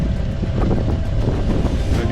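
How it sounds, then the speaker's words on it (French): Strong wind buffeting a microphone during a half-marathon run, a loud continuous roar with gusty fluctuations and no clear talk. "Le vent souffle."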